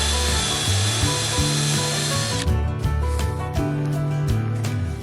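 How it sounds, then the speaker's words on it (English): A power drill whines loudly at a steady pitch, stops partway, then resumes in short bursts as it bores through material. "Start drilling our holes so we can get it all bolted in."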